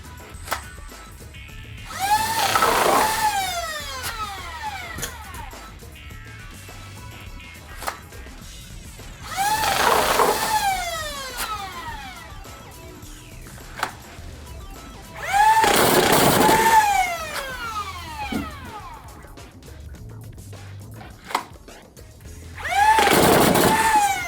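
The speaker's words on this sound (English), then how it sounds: "let me just put a clip of me emptying a mag out." A Nerf Woozi blaster fires full-auto in four separate loud bursts, each a rapid rattling volley that empties the magazine, with quieter handling noise between bursts and no talking.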